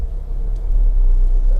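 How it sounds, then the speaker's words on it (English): A big truck rumbles past close by on the road while a Honda CR-V 1.6 i-DTEC reverses out of its way, a heavy low-pitched engine drone that swells and holds loud through the short moment. "we've got a big truck coming the other way"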